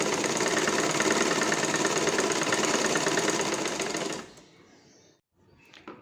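A sewing machine runs a continuous steady whir while top-stitching a bra, close and loud for about four seconds, then stops abruptly, leaving faint handling clicks.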